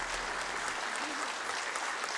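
An audience applauds at a Christmas concert held by the Tornedalens Musikklubb, a dense, sustained clapping from a crowd filling the whole stretch, close and fairly loud.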